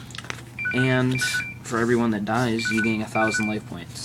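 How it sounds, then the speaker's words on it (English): A phone's electronic tones and beeps go off loudly over a man explaining a trading card game, with the melodic tone runs overlapping his talk throughout. "Sorry about that, guys. That was my phone."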